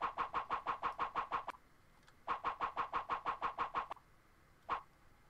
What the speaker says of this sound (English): The hens need to be herded into their coop.